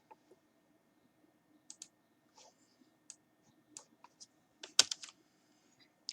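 Typing on a computer keyboard while working in R Studio, scattered light key clicks in short irregular bursts, close and quiet against a near-silent background.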